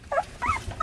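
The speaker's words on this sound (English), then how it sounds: "One of them's in here growling." Puppies under four weeks old make brief dog vocalisations, soft whimpering yips with low growly undertones, in two or three short bursts close to the microphone with no talking.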